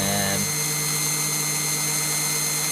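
A valve grinder spins against the valves of a 1972 VW Beetle 1200 engine, a loud steady motor drone close to the microphone for the whole short stretch.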